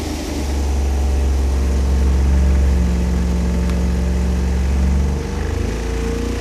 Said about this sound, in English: Warm up the engine until the oil temperature reaches 160 degrees, and we're ready to make our first dyno pull.